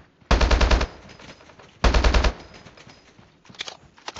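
Automatic weapon fire in the battle royale mode of Call of Duty: Mobile comes in two loud, rapid bursts about a second and a half apart, followed by a few quieter shots near the end.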